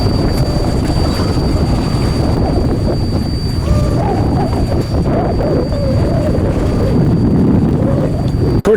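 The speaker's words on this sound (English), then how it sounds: "we're sailing along here on our way to Ladysmith for a little evening sail" A sailboat with new sails heads along on an evening sail, a constant loud rush of wind and water surging around the hull with gusty buffeting close to the microphone. No one speaks.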